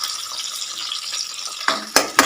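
Onions and curry leaves sizzle in hot oil, a steady close crackling hiss with a few sharper stirring clatters toward the end.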